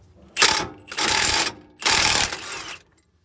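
A ratchet wrench backs off a bolt on the front control arm of a 1998 P30 Bounder motorhome, giving three loud, close bursts of rapid clicking with short pauses between them and no talking.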